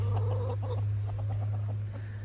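Chickens cluck softly in a rapid, scattered series over a steady low electrical hum.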